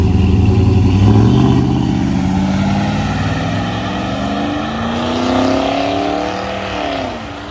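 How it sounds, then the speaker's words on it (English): A 1947 Dodge truck roars by at a racing event, its loud engine note climbing and shifting pitch as it accelerates and passes close, with no voices. "We got a 1947 Dodge truck here."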